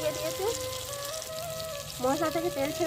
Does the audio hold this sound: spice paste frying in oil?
yes